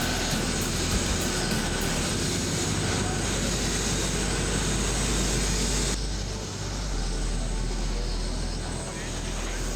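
Jet engine roar from a Boeing 747-8 Freighter with General Electric GEnx engines, a loud steady broadband rumble that drops slightly partway through, heard while a voice talks.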